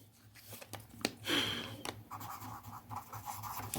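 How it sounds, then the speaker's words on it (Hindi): Pen or marker writing on a board or paper during a Class 6 geometry lesson on elementary shapes, with scratchy strokes of varying length over a low steady hum. "तो यहाँ पर हम लिखेंगे"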